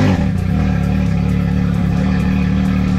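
A 2021 Can-Am X3 Turbo RR engine with a Shocker exhaust runs close by, a loud, steady, throaty drone with a deep low rumble and no voices over it.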